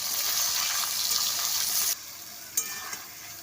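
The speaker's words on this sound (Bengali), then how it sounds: "টমেটোটা দিয়ে খুব ভালো করে মিশিয়ে নেবো পেঁয়াজের সঙ্গে।" Tomato and onions sizzle and fry in a pan while being stirred. A loud, steady hiss runs for about two seconds, then drops to quieter sizzling with a brief scrape of the spoon.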